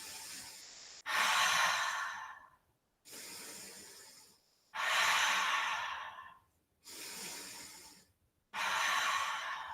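Slow, deep breathing during a yoga Warrior 2 pose: long airy inhales and exhales alternating in steady rhythm, close and fairly quiet, with brief silent gaps between breaths and no talking.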